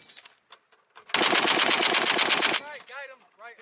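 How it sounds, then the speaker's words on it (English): An M2A1 machine gun fires a sustained burst of about a second and a half on a Marine live-fire range, loud and close, with rapid evenly spaced shots. Brief voices are heard before and after the burst. "Fire at will."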